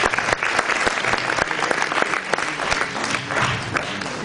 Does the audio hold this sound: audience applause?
yes